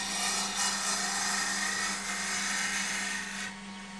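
Wood spinning on a lathe while a tool takes a very light finishing cut around a curve, throwing off dusty shavings: a steady, close whirring hiss with a low motor hum beneath, fading slightly near the end.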